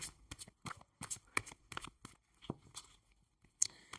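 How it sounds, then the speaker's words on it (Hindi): Tarot cards shuffled and drawn by hand, a run of quick papery riffles and flicks in short bursts with brief pauses, close and fairly quiet. "थोड़े से हम और भी कार्ड्स लेंगे कि डिवाइन एंजल्स आपको और क्या बताना चाहते हैं"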